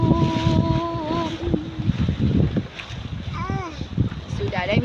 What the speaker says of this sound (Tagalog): kay perting hangin na mulupad man imong payong